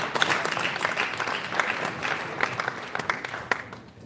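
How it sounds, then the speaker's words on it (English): Crowd at a boxing press conference claps for a fighter, lively applause with sharp individual claps standing out, tapering off toward the end. "big round of applause for Gabriel Rosadao"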